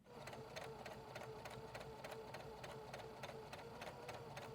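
A sewing machine stitches fabric for a quilted ice cream pint cozy, giving a steady fast mechanical chatter of rhythmic needle strokes. It is fairly quiet and continuous, with no talking.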